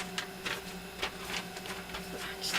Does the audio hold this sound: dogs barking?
no